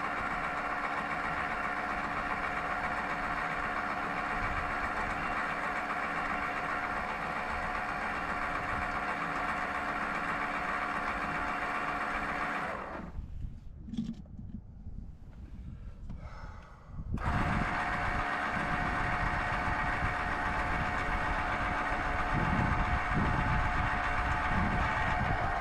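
An electric tongue jack raises a Casita travel trailer with a steady, loud mechanical motor hum. The hum breaks off for a few seconds partway through, then resumes unchanged.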